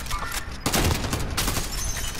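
Video game gunfire: bursts of rapid shots crackle in quick succession, a heavy volley in the middle and another toward the end, moderately loud over a noisy background with no talking.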